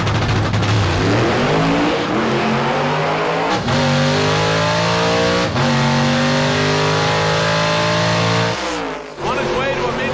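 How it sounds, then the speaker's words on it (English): A slick-tire gasser drag car makes a pass at a dragstrip with a loud engine roar and rapid rising gear shifts, each one a brief drop before climbing again. The engine cuts off near the end. "that'll bring up Mike Finnegan as our final slick tire car"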